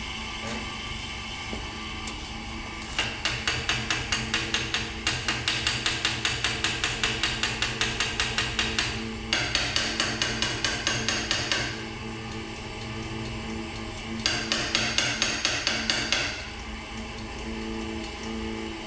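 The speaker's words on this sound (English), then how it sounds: "I'm gonna run the pump and tap on the carb" A Ford Model A carburetor is tapped in rapid, metallic bursts of clicking blows in three separate runs, over the steady drone of an electric fuel pump running throughout.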